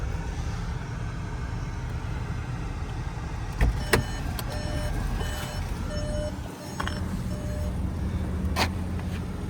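Power windows of a 2020 VW Jetta run inside the car, a low steady motor hum with a few short clicks and whirs near the middle and end.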